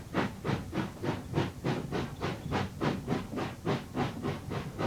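A steam locomotive on the Somerset and Dorset railway chuffing in a steady, rhythmic beat of hissing exhaust puffs, fairly loud and close, with no voices.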